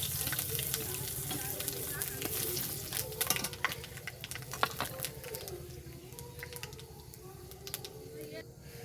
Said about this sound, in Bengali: এগুলো সব তেলের উপরে দিয়ে দেবো বেশি লাল লাল করে ভেজে নেবো